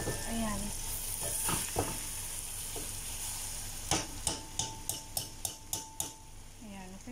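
Cooked rice drops into a hot, oiled pan and is stir-fried with seafood: a loud sizzle with scraping stirs, followed by a quick run of regular metallic taps from a spatula against the pan.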